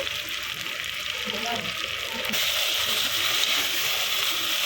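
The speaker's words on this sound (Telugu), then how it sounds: "ఇలా బాగా మొత్తం ఒకసారి మిక్స్ చేసుకోవాలి" Mutton curry masala with chopped tomatoes being stirred in a frying pan: a continuous close hiss and bubbling sizzle that grows louder and brighter halfway through, without any voices.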